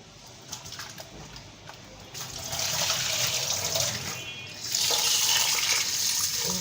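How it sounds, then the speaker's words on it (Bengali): Lentils are rinsed in water in a kitchen, with running and swishing water that starts quieter, swells after a couple of seconds and grows louder again near the end. "এটাকে আমি ডালটাকে ধুয়ে নেব, ধুয়ে ভিজিয়ে রাখবো 5 মিনিটের মতো"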